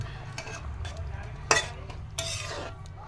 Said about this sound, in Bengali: ওখানে যে এই ভাজাটা হচ্ছে অলরেডি